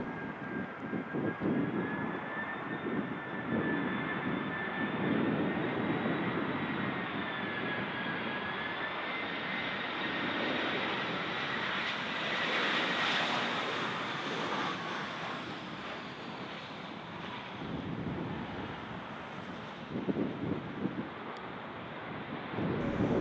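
A fixed-wing aircraft lands in a gusty crosswind at Bristol Airport, its engine roar steady and loud throughout with constant wind buffeting the microphone; no voices.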